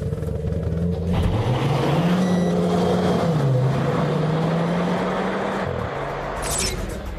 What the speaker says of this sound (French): pied sur le frein, accélérateur à fond en même temps